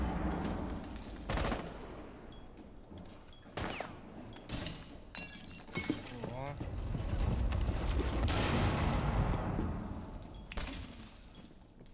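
Rapid bursts of gunfire and shattering glass from a Rainbow Six Siege match, loud and clustered in the second half amid shifting game noise, with players talking over the action.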